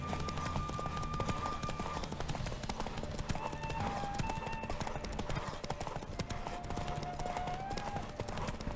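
Roach the horse's hooves drumming in a steady clip-clop gallop inside The Witcher 3: Wild Hunt, a continuous rhythmic beat mixed with game music and ambience, with someone talking in the background.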